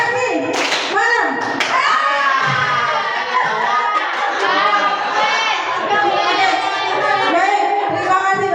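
A group of adults at a school counseling session claps out a patterned rhythm in unison, clusters of claps and chanted voices mixed with chatter, fairly loud and steady throughout.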